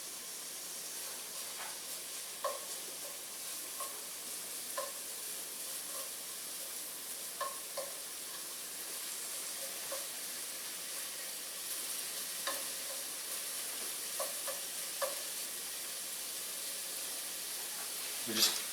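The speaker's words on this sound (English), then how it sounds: "The onions are really sliced thin, so I only need to give them 20-second head start." Thinly sliced onions frying on a flat top, a steady soft sizzle with faint scraping clicks and taps scattered throughout, fairly quiet and close.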